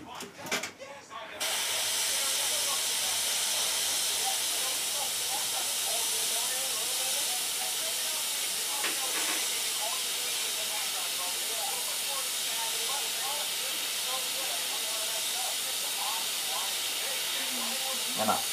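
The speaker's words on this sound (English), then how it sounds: "This is the 771 and it's a detailed airbrush." A GSI Krios 771 detail airbrush sprays pink paint onto a trout-pattern jerkbait, giving a steady, close hiss that runs almost unbroken after a short start, with faint clicks and small noises underneath.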